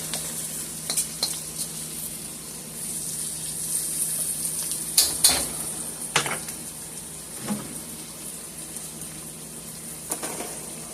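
Garlic and peppers sizzle softly in a pan while red snapper is being prepared, a steady frying hiss broken by a few sharp clinks and stirring scrapes.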